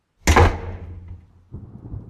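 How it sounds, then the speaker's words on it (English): Front door slams once with a heavy, booming thud and a lingering reverberant tail, followed by a softer low rumble as a horror story sound effect. "I heard the front door slam."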